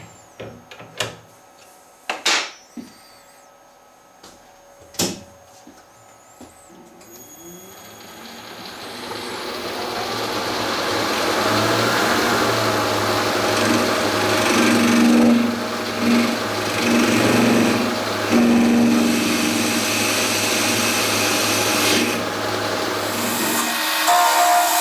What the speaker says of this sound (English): we're going to use a carbide tool